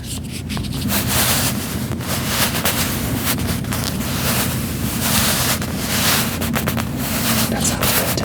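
Continuous broad rustling and rubbing of a hand over a yoga mat in a gym, a dense whooshing friction noise held close to the microphone, steady and loud with no talking.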